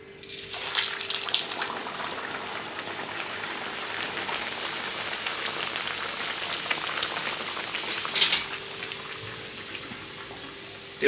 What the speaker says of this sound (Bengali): এরকম করে সবগুলো ভেজে নিব। তেল তো গরমই আছে